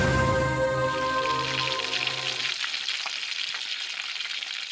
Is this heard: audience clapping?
no